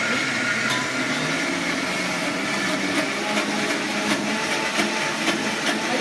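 A mixer grinder grinding soaked ingredients for sandge, a steady continuous whirring drone that holds at constant loudness with faint periodic clicks, nearby and with no talk.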